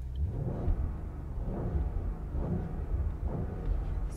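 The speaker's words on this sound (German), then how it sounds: "Dann gehe ich hier mal neutral und drücke mal aufs Gas." Audi SQ8 TFSI V8 petrol engine revved in neutral, heard from inside the cabin: a deep, muffled rumble that swells with repeated throttle blips, steady and fairly loud, with no voices.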